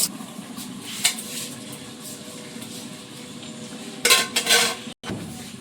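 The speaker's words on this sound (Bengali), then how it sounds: "এখন এর মধ্যে এই যে ভাজা মাছ এইগুলো দেব" Fried fish pieces go into a cooking pot with a few metallic clinks and scrapes of utensils against the vessel, loudest near the end, over a steady low background.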